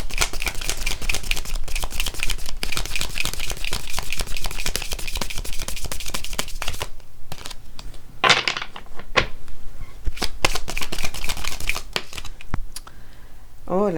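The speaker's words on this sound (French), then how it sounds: "Est-ce que j'arrive à mélanger ces cartes là, ou pas?" Tarot cards being shuffled, a dense rapid riffling and flicking for several seconds, then sparser card handling and slaps, with a voice speaking briefly over the later part.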